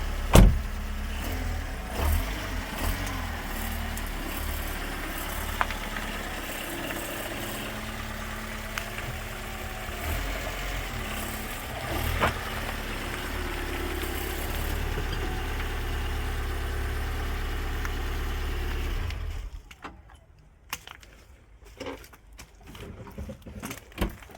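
A Vauxhall Astra H with about 59,000 miles on it idles steadily with a low, even engine rumble up close for roughly twenty seconds, then the sound cuts off, leaving quiet with a few faint clicks.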